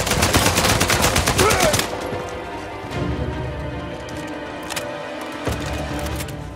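Rapid gunfire from the Uncharted 4 video game, a dense loud burst of shots for about two seconds, then scattered sharper reports and a lower rumble of game sound, with no talking.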